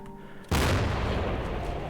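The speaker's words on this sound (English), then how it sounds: "Oh shit, I didn't see the grenade." A grenade goes off in a multiplayer video game: a sudden, loud blast erupts after a brief quieter stretch, then a heavy, noisy roar lingers and slowly fades. No one talks.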